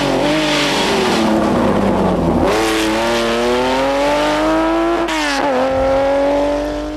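Rally cars, a Porsche 911 and a Mark II Lotus Cortina, race on the Donegal International Rally. A loud, close engine revs and climbs through gears, pitch rising in long sweeps with a brief break mid-run.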